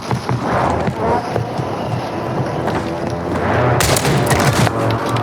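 Gunfire rattles through a Warzone match, with bursts of rapid shots and sharp cracks close by and a heavier, denser volley near the end, all heard alone without talk.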